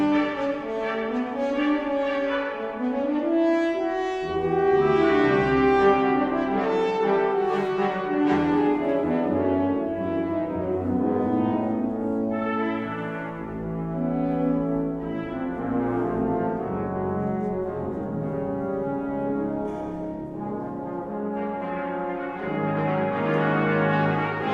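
Two solo horns with a brass ensemble perform an original concert piece at a steady loud level, sustained chords and lyrical horn lines unfolding continuously with no talking.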